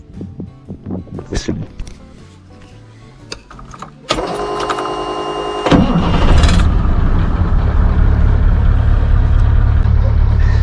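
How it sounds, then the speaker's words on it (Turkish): A motorhome's engine, in running order, cranks and catches quickly after some quieter clattering, then settles into a loud, steady running rumble close by. "Bir de yarım marşta alıyor yani."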